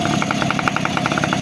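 Old Yamaha RX two-stroke motorcycle engine, loud and close, a rapid even puttering beat with a rough buzzing edge, steady throughout.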